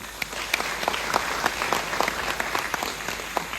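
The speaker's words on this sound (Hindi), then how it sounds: "एक बार उनके लिए जोरदार तालियां" Steady applause from a crowd at a student award ceremony, dense clapping sustained throughout with a few sharper claps standing out, no voices over it.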